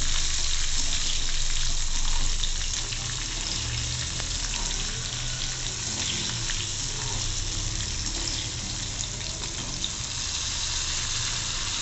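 Large chilli pieces for a flat beans sabji are sautéed in a pan, giving a dense, continuous hissing sizzle that holds fairly loud throughout with no breaks and no talk.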